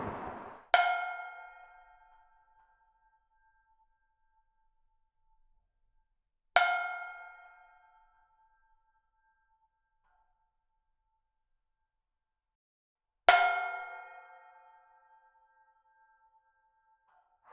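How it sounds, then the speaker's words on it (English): A contact microphone struck with a stick, three isolated sharp metallic pings spaced several seconds apart, each ringing out and decaying into silence. "I've got the contact mic, and I'm going to strike it with the stick"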